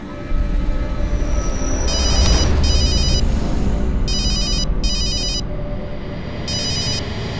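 A telephone rings in repeated electronic trills that come in evenly spaced pairs over a loud, steady rumble resembling a moving train, with no speech.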